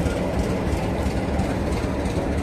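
T458 locomotive Hektor rolls slowly into position at a rail event in Bratislava, giving a steady, loud rumble of heavy diesel engine and wheels on track, with no voices.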